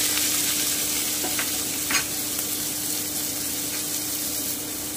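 Chopped onion frying in hot oil in a wok, a loud, even sizzle with faint occasional spatters and one light clink, continuous and close, no speech.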